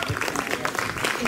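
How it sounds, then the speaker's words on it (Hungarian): An outdoor village festival audience applauds, a brief dense patter of clapping with voices mixed in. "Nekik is egy nagy tapsot küldjünk."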